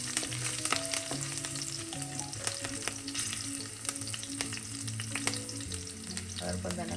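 Curry leaves and green chillies fry in hot oil for a Kerala mackerel fish curry, making a continuous close sizzle and crackle punctuated by sharp ladle clicks, with faint tonal background music underneath.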